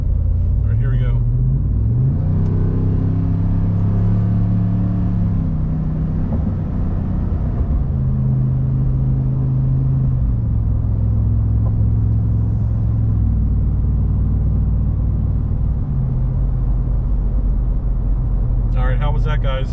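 A Ford F250 with the 7.3 engine and MBRP 4 inch exhaust pulls away from a highway on-ramp, giving a loud, steady low diesel rumble that builds through long gear pulls under someone talking.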